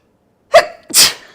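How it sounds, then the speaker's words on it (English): A single close, sharp sneeze: a quick inhaled catch followed by a loud burst, then silence. "I'm going to sneeze."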